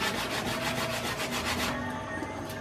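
Garlic cloves are peeled by hand at a home cooking stove. The papery skins give off quick, rhythmic dry rubbing and rustling strokes, close and fairly loud, before easing off near the end.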